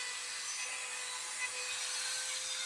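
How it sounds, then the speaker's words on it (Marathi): A small drill boring holes in wood to build a homemade swing gives a steady, high whining grind that runs continuously at moderate volume, with no talk over it. "इथं ड्रिल मारायचं काम चालू आहे."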